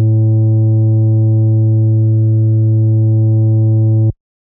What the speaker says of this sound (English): We can round it off to make it more of a sine.